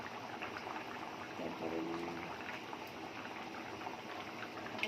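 Chicken and potato curry simmering in a pot as its gravy reduces, a steady close bubbling and gentle popping with a brief word spoken over it.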